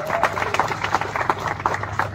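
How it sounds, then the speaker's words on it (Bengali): A seated audience gives a modest round of applause for the lyricist Srijit Mukherji, with steady, moderately loud clapping that runs through the whole moment. "সৃজিতের জন্য একটা জোরে হাততালি।"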